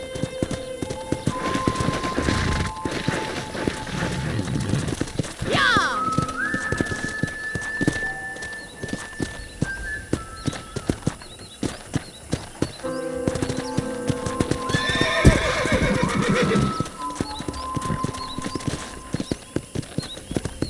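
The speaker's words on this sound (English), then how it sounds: "let's see if you can still ride a horse" Steady clip-clop of horse hooves in Red Dead Redemption with birds chirping around, and a brief whinny rising over the scene partway through.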